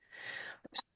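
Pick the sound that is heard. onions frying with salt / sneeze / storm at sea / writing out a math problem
sneeze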